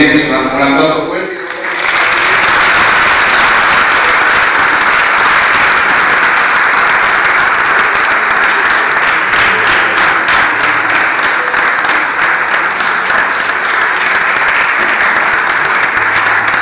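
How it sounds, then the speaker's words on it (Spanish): Wedding guests break into loud, sustained applause that swells after a brief quieter moment and holds steady, dense and close, for well over ten seconds. "Muy bien, pues un aplauso fuerte."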